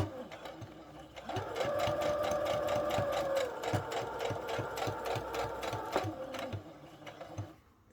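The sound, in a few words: sewing machine stitching a satin-lined bonnet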